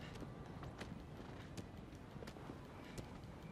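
A horse's hooves clip-clop at a steady trot in Shadow of the Colossus, quiet and even, over soft outdoor ambience with no one talking.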